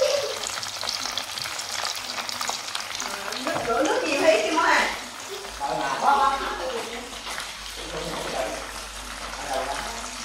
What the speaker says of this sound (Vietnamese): Chiên dầu nổ lùm bùm luôn.